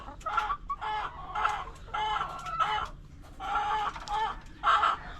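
Chickens cluck in repeated bursts, fairly close and loud, with one hen that has a healing head wound among them; no talking over the calls.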